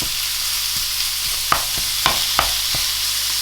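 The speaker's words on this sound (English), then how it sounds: "So I might start off with the mince there. And just brown that off." Beef mince browns in a hot pan for a spaghetti bolognese, sizzling steadily and close, with a few sharp scrapes and taps from a spatula breaking it up.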